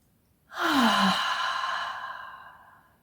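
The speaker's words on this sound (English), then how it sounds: "let's first take a few deep breaths" One deep, audible breath released as a long sigh: a quick, loud exhale that starts sharply and slowly fades over about two and a half seconds, heard close and alone.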